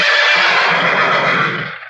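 A horse gives a loud, sustained whinny from a film scene, a single close call that fades out at the end, with no voices over it.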